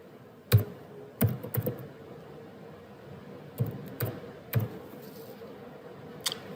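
Buttons on a graphing calculator are pressed in a handful of sparse, crisp clicks at irregular intervals over a faint background hiss.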